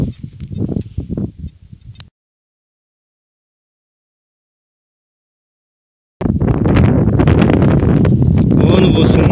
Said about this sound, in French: il y a beaucoup de vent, alors je sais pas si vous allez bien m'entendre